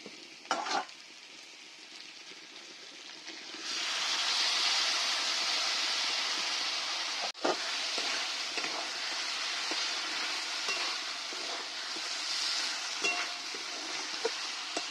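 Chicken masala sizzling and frying in a pan after tomato paste goes in, a steady loud hiss that swells midway with occasional stirring scrapes and clicks, no talk.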